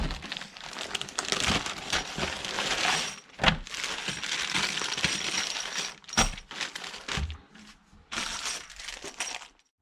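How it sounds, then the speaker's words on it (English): Small metal hardware clinks and rattles as nuts, bolts and washers are handled and fitted into a boat's bow-mount motor deck mount, with scattered sharp taps and rustling at close range. "You have to get the nuts and bolts and washers in there."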